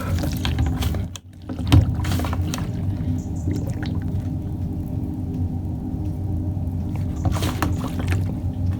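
A hand pump pushes kerosene into the tank of an Omni kerosene heater to soak a new wick, giving a steady low gurgling flow with soft squishing strokes, close and continuous.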